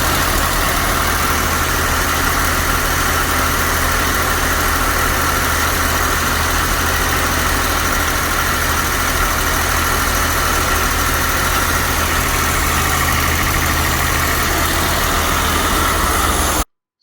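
A Mercedes W123 with the M110 engine idles steadily and close, a constant low mechanical hum with even vibration and no talk, stopping abruptly at the end.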